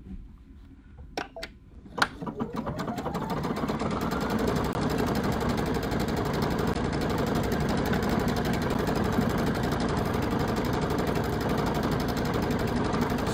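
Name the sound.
embroidery sewing machine stitching a design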